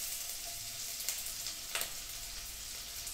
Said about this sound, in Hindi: कढ़ाई पे व्हाइट ऑयल गरम हो गया है तो पहले गार्लिक,